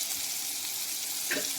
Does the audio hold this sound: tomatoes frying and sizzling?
yes